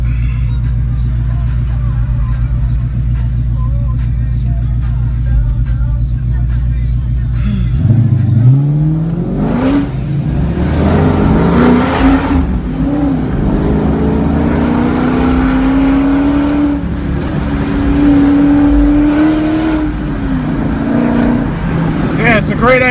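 A Jeep SRT engine idles low, then revs up hard and roars as it accelerates down a street, the pitch climbing and holding at a high, sustained whine.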